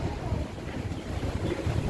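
Gusty wind from an approaching typhoon buffeting the microphone in low rumbling bursts, loud and continuous, with a watery, open-air wash behind it, in the Philippines.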